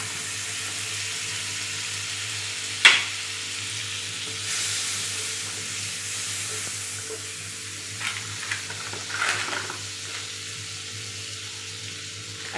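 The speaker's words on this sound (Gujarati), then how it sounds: "આપણે અહીંયા પાવ શેકવા માટે આપણે બટર ઉમેરશું" Butter sizzling on a hot pan as pav bread rolls toast for bazaar-style pav bhaji, a steady soft frying hiss with a sharp clack near the start and a few light scrapes and taps later, no talking.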